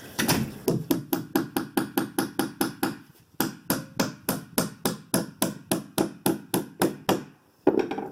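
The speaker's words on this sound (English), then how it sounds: "take our new nails, which I happen to have a handy dandy bag full of nails here, and then hammer them into place" Steady rhythmic hammering of nails into a wooden deck board, roughly twenty loud, close, evenly spaced blows in two runs with a short pause between them and a final strike after a gap.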